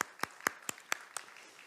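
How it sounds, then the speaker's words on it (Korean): A small church audience claps a few separate, sparse handclaps, faint and somewhat distant, with no talk over them. "자, 우리 수고하신 분들 박수 한번 할까요?"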